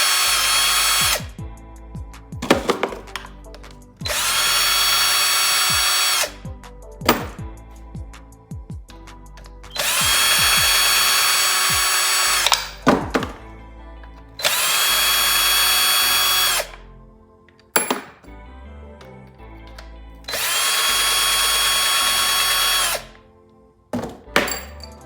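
A power tool runs on a 5.3 V8 engine during a cam install, loosening bolts in four long bursts, each a steady whir lasting a couple of seconds, separated by clanks and short pauses, close and loud with no talking.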